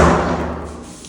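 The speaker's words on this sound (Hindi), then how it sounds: "यहाँ पे भी दरवाज़ा खोल देती हूँ।" A door in a newly occupied government quarter is pushed open with one dull, close thud that fades quickly, alone.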